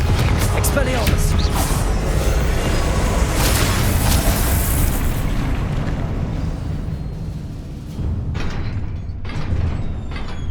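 Confringo spell blasts in Hogwarts Legacy go off as loud rumbling explosions and booms during a duel, dense for several seconds then thinning into scattered bursts, with a player shouting spell names over them.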